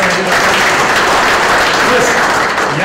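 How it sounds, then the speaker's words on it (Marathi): Strong, continuous applause from a Rotary Club audience honouring the club president at an installation event, a dense steady clatter of many hands, close and loud throughout. "त्यांच्यासाठी जोरदार टाळ्या वाजवायला पाहिजे"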